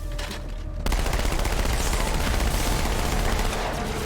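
Sustained rapid gunfire from dual-wielded weapons in the Halo 2 video game, starting after a brief quiet moment and continuing as a dense, loud, unbroken volley.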